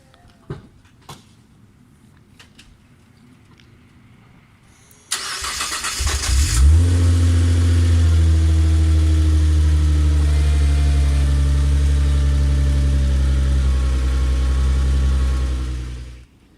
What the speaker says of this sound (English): I'll have to turn the engine on in order to give it power